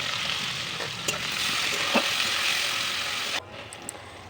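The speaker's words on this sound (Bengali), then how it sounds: "এবার পেঁয়াজগুলো দিয়ে দেবো এক এক করে" Onions frying in plenty of oil with dried red chili and cumin seeds, a loud, close, continuous sizzle with a few soft knocks, which abruptly drops to a quieter hiss near the end.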